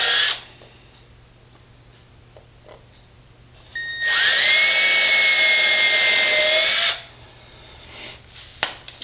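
A power drill bores through a boat's rigging board toward the hull, a loud close whine that starts abruptly, holds steady for about three seconds, then cuts off, with quiet handling noises before and after.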